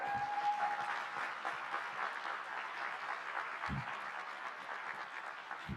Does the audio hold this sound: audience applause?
yes